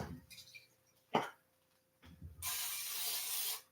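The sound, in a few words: cooking spray being sprayed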